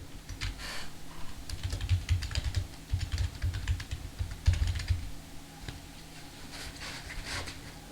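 Keys clatter on a computer keyboard as a file name for a QR code is typed, in quick bursts of close, soft clicks with short pauses between words, over a faint low hum and no speech.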